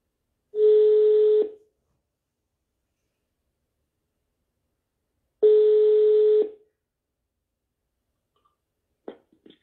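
Two separate bursts of telephone dialing tones for French numbers, each about a second long with a steady tone, separated by several seconds of silence, followed by a few faint clicks near the end.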